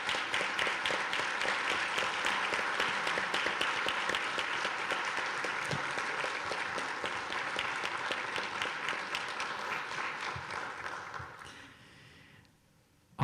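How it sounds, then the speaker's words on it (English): An audience at a climate-protection awards event gives sustained applause, steady and full for most of the stretch, then thinning and fading out near the end. "I invite everyone to join me in a round of applause for their outstanding contributions"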